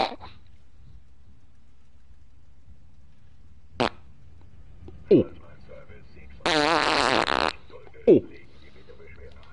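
Brief flatulent burst of about a second during an Alien Isolation stream, sitting among short vocal exclamations and quiet game ambience, with a few other isolated clicks and pops nearby.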